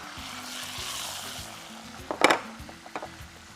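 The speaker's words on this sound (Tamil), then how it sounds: "அதில் பூண்டு வதக்கிட்டு அந்த வாசனை வரணும், கலர் மாறக்கூடாது." Garlic sautés in hot oil with a low, steady sizzle, and a few sharp clinks and scrapes of a utensil against the pan break in near the end.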